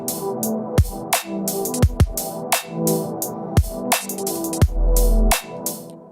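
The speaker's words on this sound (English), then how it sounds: "So this is called the soul pad" A full phrase of a Serum synth soul pad: sustained harmonic chords with sharp, regularly spaced percussive hits recurring through the passage, played alone.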